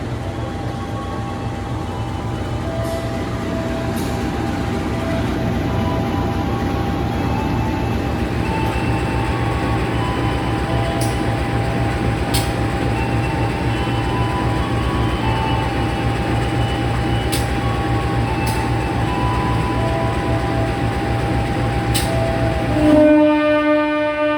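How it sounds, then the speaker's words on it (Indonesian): A train at Lempuyangan station sounds its horn, signal 35, with a steady sustained blast over the low rumble of the idling locomotive and carriages, loud and close, ending with a brief thump. "Kita rekam semboyan 35-nya dulu ya, sinyalnya udah hijau."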